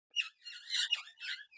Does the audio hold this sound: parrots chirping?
yes